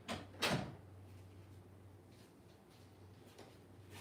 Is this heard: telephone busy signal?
no